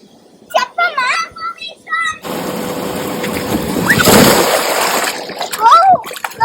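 Children splash and slosh through water on an inflatable bounce house slide, with a steady wet rush rising in the middle and kids' voices chattering and calling out around it.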